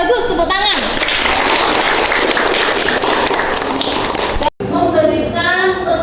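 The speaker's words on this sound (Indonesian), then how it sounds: "tepuk tangan" Students in an Islamic junior secondary school classroom break into lively clapping that lasts several seconds, with a teacher's voice heard just before and after the applause.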